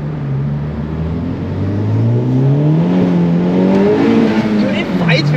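A 2020 Honda Civic Type R pulls hard in second gear, its engine note climbing steadily in pitch and loudness over several seconds, close and dominant, with a brief tire chirp as it fights for traction.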